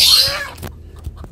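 A Dark Brahma hen gives one close, loud, sharp cluck, followed by a few fainter clucks and scratching noises.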